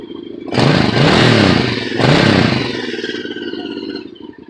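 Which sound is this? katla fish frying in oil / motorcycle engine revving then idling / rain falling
motorcycle engine revving then idling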